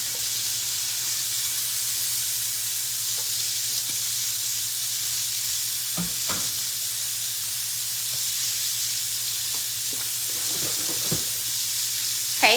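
Pork steaks frying with onions and peppers in a pan give off a steady, loud sizzle and hiss that runs unbroken throughout, with a few faint clinks and scrapes.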